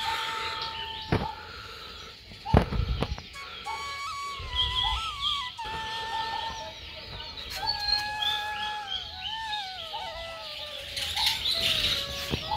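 Birds chirp and whistle around a riverside Shiva temple on the Narmada, with scattered tweets and rising calls running throughout at moderate distance, broken by a few low thumps and rustles nearby.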